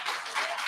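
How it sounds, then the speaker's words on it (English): A room audience applauds at a poetry reading, a brief dense wash of many hands clapping together, steady and moderately loud, no distinct single claps. "you keep clapping, I'm never going to sit down"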